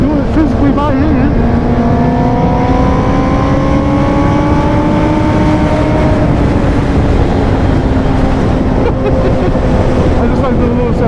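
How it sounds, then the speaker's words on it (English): A car pulls hard in fourth gear, its engine tone rising steadily and loudly over several seconds amid heavy road and wind roar before easing slightly, with someone talking over it. "I just like the little acceleration, man. Fourth gear pull."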